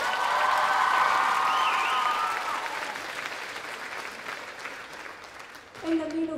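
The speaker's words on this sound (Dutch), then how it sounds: "Laat me eerst een daverend applaus vragen voor onze sprekermens" Audience applause for a speaker at an indoor gathering, a full wash of clapping that gradually thins out, ending as a voice starts talking over the last scattered claps.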